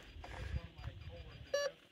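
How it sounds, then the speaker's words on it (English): A metal detector sweeps a rock pile at an old copper mine, letting out one short, clear electronic beep of steady pitch near the end, with low rumble and faint talk in the background. "using his metal detector"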